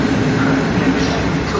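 A train pulls away from a platform at Warszawa Zachodnia station, bound for Wrocław, giving a steady, loud low rumble and rolling noise that fills the whole stretch without pause.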